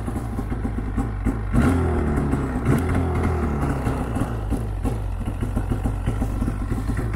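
A snowmobile engine idles just after starting, a close, steady throbbing putter with a brief louder rev partway through and no talking.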